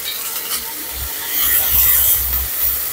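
Bay leaves, dried red chillies and five-spice seeds hit hot white oil in a kadai, giving a steady, fairly loud hissing sizzle that swells midway and keeps going to the end.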